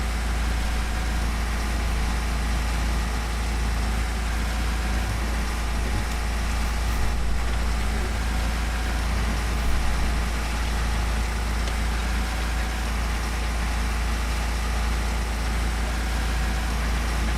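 A powerful tractor engine in Farming Simulator 15 drones at a steady, heavy low rumble, unbroken and loud with no talk over it.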